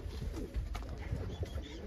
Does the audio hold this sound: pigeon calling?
yes